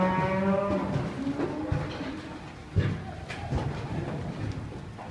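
Hereford heifers in a pen give a long, loud moo at the start, then a rougher low call follows amid farm background noise.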